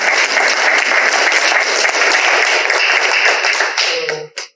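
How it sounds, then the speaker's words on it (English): Town hall audience in Lawrenceville bursts into steady, dense applause that holds for about four seconds, then tapers off abruptly at the end. "Well, you should applaud if we've done well."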